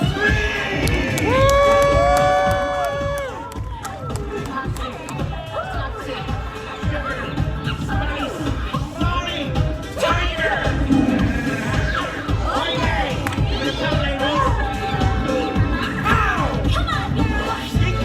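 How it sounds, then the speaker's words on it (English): A crowd of visitors at Universal Studios Orlando cheers and shouts loudly, with children's voices and excited hubbub rising over a steady dense roar, while people talk and call out throughout. "Everybody, big round of applause on the count of 3."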